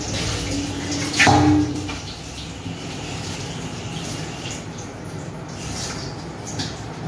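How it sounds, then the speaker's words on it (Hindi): Tap water runs steadily while soaped dishes are rinsed in a household sink, with a brief louder clatter or splash near the start and a continuous hiss of flowing water after. "बस पानी से धोना बाकी है, वो धो लेते हैं।"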